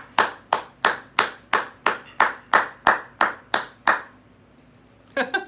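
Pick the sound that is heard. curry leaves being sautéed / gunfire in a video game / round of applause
round of applause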